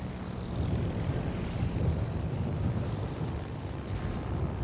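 Carrier-launched strike aircraft in World of Warships drone overhead in a continuous, broad propeller roar, loud and steady across the whole stretch with no speech.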